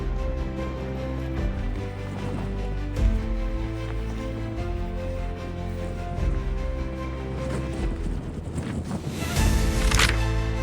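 Steady wind buffets and roars across the microphone for several seconds in Galloway, Scotland, growing rougher and louder near the end, with no voices.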